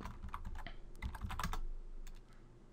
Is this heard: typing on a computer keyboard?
yes